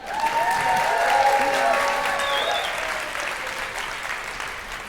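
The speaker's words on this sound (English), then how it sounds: "I don't think that was enough clapping." An indoor audience at a talk about a song applauds in steady, dense clapping that holds strong and then slowly tapers, with a voice faintly audible over it.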